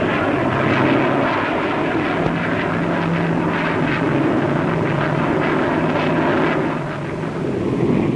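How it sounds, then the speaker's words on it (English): Swept-wing SB-5 research aircraft, wings set to adjustable sweep angles, flying at the Farnborough air show: a steady, continuous engine roar with wind rush that holds near-constant and dips briefly before returning. "the SB-5, a product of the same firm, is designed to test performance with the wings swept at varying angles."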